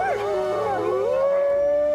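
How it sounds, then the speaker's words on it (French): A cartoon wolf lets out a long, loud wavering howl that rises and then holds a steady sustained tone, close and alone with no talk over it. "S'il hurle, le soir venu, c'est pour retrouver les autres membres de sa meute ou pour inviter son clan à la chasse."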